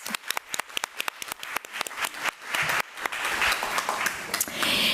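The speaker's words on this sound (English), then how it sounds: "So let's give Ms. Virginia Wilson a round of applause." A room of people at a school board committee meeting applauds an honoree, starting as scattered individual claps and swelling into dense, sustained clapping that grows louder toward the end.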